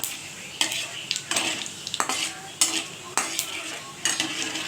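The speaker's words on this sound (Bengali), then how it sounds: "5 ফোড়ন আর শুকনো লঙ্কাটা খুব ভালো করে ভাজতে হবে।" Panch phoron and dried red chillies fry in hot oil in a pan for a spicy mango pickle. A steady sizzle runs underneath, and a spoon stirs and scrapes against the pan in repeated sharp clatters. No one speaks.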